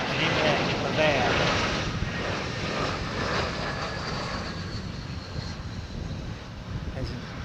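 Boeing 787 Dreamliner jet engines roaring steadily in blustery wind, the broad rumble close and loud with gusty wind buffeting the microphone throughout.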